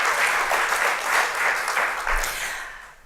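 Applause from a gala audience at a university faculty event, a dense burst of many hands clapping close by that thins out and fades over about three seconds.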